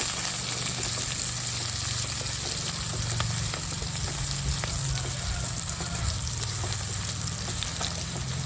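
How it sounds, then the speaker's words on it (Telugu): Thinly sliced onions fry in a pan for a drumstick-leaf egg fry, giving a steady, close sizzle with faint clicks from occasional stirring throughout. "సన్నగా కట్ చేసి పెట్టుకున్న ఆనియన్స్ ఆనియన్స్ని వీటన్నిటిని దోరగా పచ్చివాసన పోయేందుకు దోరగా వేయించుకోవాలి"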